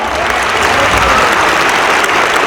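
Audience at a school annual event applauds a children's performance, with dense, loud, continuous clapping sustained throughout and no voices.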